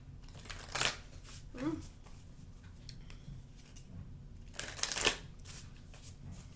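A deck of tarot cards being shuffled by hand: two loud riffling bursts near the start and middle, with soft handling noise between them while someone talks.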